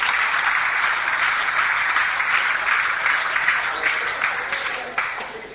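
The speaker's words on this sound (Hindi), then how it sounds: "एक बार तालियां बजाएं आपके लिए" A seated audience at a motivational talk claps together in a broad, steady wash of applause that holds, then thins and fades toward the end, with no talk over it.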